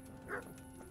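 A single dog barks once at mid distance in the medieval video game Kingdom Come: Deliverance, a short bark standing out over steady low background hum.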